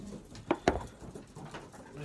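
Pigeons coo softly in a loft, two short low calls close together, faint over quiet background noise.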